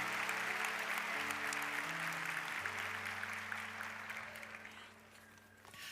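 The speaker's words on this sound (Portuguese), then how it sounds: "Aplaude aí, que eu demorei para estudar isso aqui." A church congregation applauds during a sermon, a dense, sustained clatter of clapping over held keyboard chords that thins and fades out toward the end.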